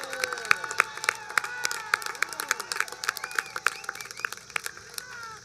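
A graduation ceremony audience keeps clapping and cheering for the class of 2021, with sharp individual claps and shouts standing out over a busy crowd bed.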